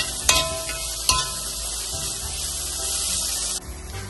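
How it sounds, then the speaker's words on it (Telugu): Chopped onion and green chilli sizzle in hot oil in a pan, a steady broadband frying hiss with two sharp spattering pops near the start, and the sizzle drops off suddenly toward the end. "ఇప్పుడు ఇదే నూనెలో ఉల్లిపాయ పచ్చిమిరపకాయ ముక్కలు వేయాలి."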